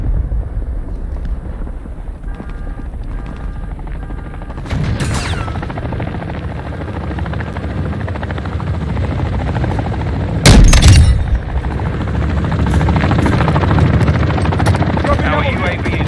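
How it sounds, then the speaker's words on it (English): A cargo helicopter in a video game flies past with continuous loud rotor thumping and engine roar, broken by a sharp blast partway through, with voices talking over it. "A cargo helo has entered the airspace."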